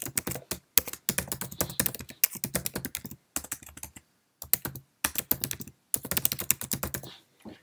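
An email address is typed on a Mac keyboard in quick clattering runs of close, crisp key taps. Brief pauses separate the runs, and no one speaks.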